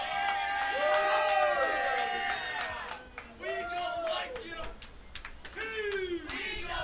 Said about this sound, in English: Leading the cheers of the Supreme Faithful.